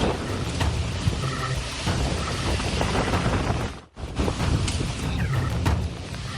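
A heavy Monday-afternoon storm over central Sidoarjo, East Java, with a steady roar of pouring rain and gusting wind. The noise is dense and continuous, briefly dropping out near the middle before resuming.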